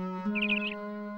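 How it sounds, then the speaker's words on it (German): A short bird chirp in a Miffy cartoon scene, a quick bright warble of a few notes over a sustained tonal musical backdrop, clear and close. "Als die Sonne aufging, wurde Miffy von dem Zwitschern eines Vogels geweckt,"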